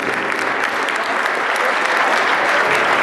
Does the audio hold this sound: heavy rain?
no